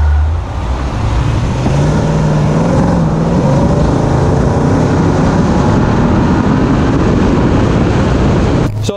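A 2004 Mercedes SL55 AMG drives on an open road, its engine droning steadily and loudly under broad road and wind rumble, with the pitch gradually climbing as it accelerates.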